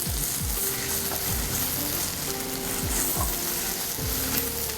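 Sliced onions sautéing in a pan for chicken curry, a continuous dense sizzle and crackle with repeated spatula scrapes and stirs, close and fairly loud, with no voices.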